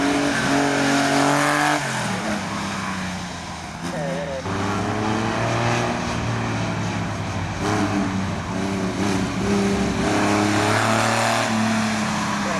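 A modified Corvair races on an autocross course at a Corvair convention in Williamsburg, Virginia, its engine loud and steady, rising through revs with shifting pitch while an announcer talks over it throughout.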